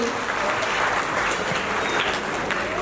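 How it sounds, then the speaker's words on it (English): Parents clapping at a children's class presentation, a steady, even wash of applause from a crowd throughout, moderately loud with no pauses. "parents, please louder claps"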